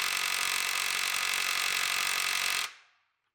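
A cheap Amazon impact wrench hammers on semi truck lug nuts in a loud, continuous buzzing rattle for under three seconds, then stops abruptly and rings out.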